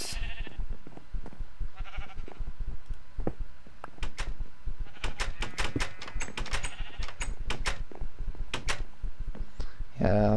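Sheep bleating in Minecraft, repeated short bleats that come in clusters at fairly close range over game sounds, with talk also present.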